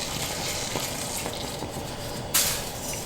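Garlic seasoned with salt sizzles in olive oil in a skillet, a soft, steady crackle with faint pops and a brief louder burst near the end, heard alone.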